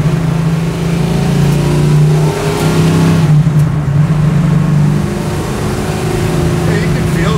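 A garage-built 440 cubic inch Plymouth Barracuda V8 pulls loud and steady while driving, a deep engine drone rising and easing under acceleration throughout, with a voice briefly audible over the motor.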